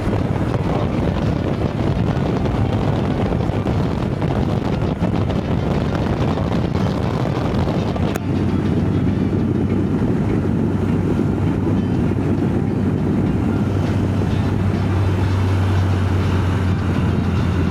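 A BMW K1100 motorcycle cruising along a Mediterranean coastal road in Algeria, its steady engine drone buried under heavy, constant wind buffeting across the microphone, with a sharp change in tone partway through.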